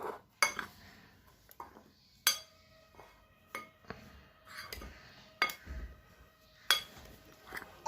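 Batter for jute leaf fritters being mixed in a bowl, with irregular clinks and scrapes of a utensil against the dish, fairly close and quiet, with no talking.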